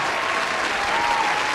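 A short burst of dense, even clapping from many hands, loud and continuous throughout with no gaps.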